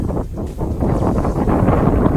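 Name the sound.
strong wind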